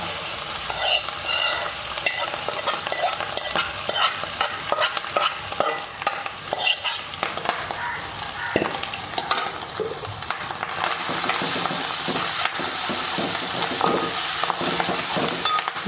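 Clam meat fries with softened onions in a pan, a loud continuous sizzle broken by frequent scraping and stirring clatters close by, with no one speaking.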